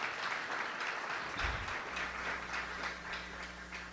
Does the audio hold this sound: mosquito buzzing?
no